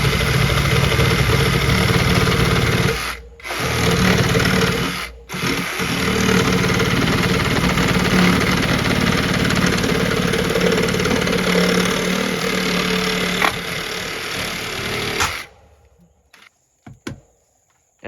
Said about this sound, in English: Here I'm using the Sawzall.